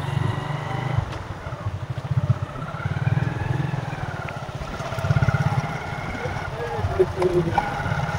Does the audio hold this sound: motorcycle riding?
yes